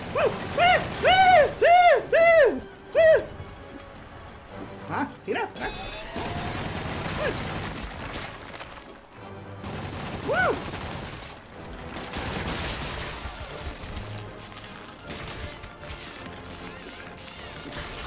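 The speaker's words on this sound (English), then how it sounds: "Gatling gun." Rapid bursts of Gatling gun fire and clattering impacts in the Spider-Man (2018) video game, loud in places and alternating with quieter gaps, with a voice talking over parts of it.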